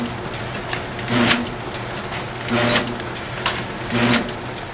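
The shingling conveyor on an OKI Pro900DP printer feeder runs with a steady mechanical whir and rattle, close up, swelling in three regular surges of clattering motion.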